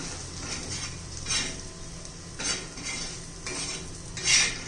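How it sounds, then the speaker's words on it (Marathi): Roasted coriander-cumin spice masala gets sautéed in a pan, producing a soft continuous sizzle with a few bright metallic scrapes and clinks of a spoon against the pan every second or so, near and moderate, without speech. "एखादा मिनिट आपण आता हे परतून घेऊया."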